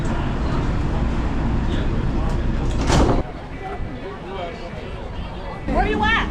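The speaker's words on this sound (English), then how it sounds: "Please stand clear. The doors are closing." Light rail train doors in Los Angeles slide shut with a short loud whoosh and thud, surrounded by station and carriage noise, with voices and an announcement around it.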